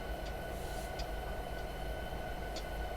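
Freight train rolling over Sherman Hill, a steady low rumble of wheels and cars with faint high squeaks now and then, constant and close throughout.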